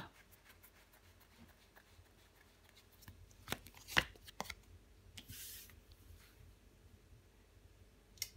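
Tarot cards are handled and laid down on a surface, making soft rustling and slapping sounds with one sharper snap in the middle and a brief swish after it, with no talking.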